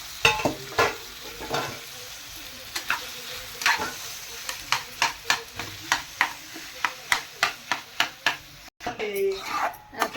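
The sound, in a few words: sautéing and stirring potato vegetable mixture in a pan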